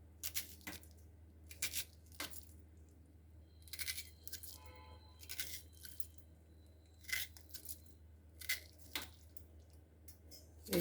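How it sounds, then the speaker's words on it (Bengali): A fork piercing pieces of mutton, a series of faint close metallic taps and soft squishy pokes in an irregular rhythm over quiet background hum, with no talking. "এখন এটা একটা কাঁটা চামচ নেব, নিয়ে এমনি করে এটা ফুটো করে দেবো"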